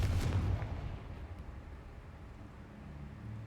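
A Confringo fire spell detonates in Hogwarts Legacy with a short, low boom at the start that quickly fades into a quiet rumbling tail, heard alone without talk.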